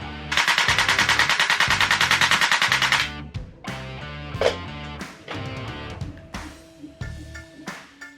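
A gas blowback airsoft M249 machine gun fitted with a D.N.A. steel bolt carrier and piston, original stock, fires a loud, rapid sustained burst for about three seconds, followed by scattered mechanical clicks and clatter of handling.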